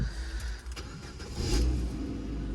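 A 2010 Ford Focus with a new engine runs close by, a steady mid-pitched idle that rises slightly in a brief rev partway through, heard alone.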